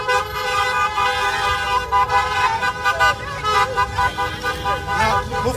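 Car horns honk over and over in a packed street during a traffic jam as youths keep blasting them, loud and overlapping above engine rumble and a crowd's voices.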